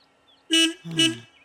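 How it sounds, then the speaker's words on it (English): In The Sims 3, a car horn sounds twice in quick succession, each a bright, clear toot over near silence. The second blast is slightly lower and longer than the first. "A honking car tells us that Ayesha now has to go to work"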